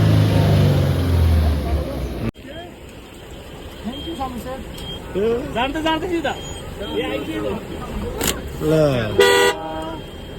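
Road traffic rumbles past on a snowy, icy road in Manali while car horns toot repeatedly in short blasts, and a person talks over the noise.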